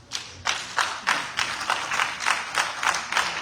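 A church congregation claps in a steady rhythmic beat, about three claps per second, close and moderately loud with no voices over it.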